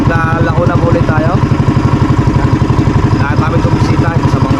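A boat engine chugs loudly in a fast, steady rhythm, with voices talking over it now and then.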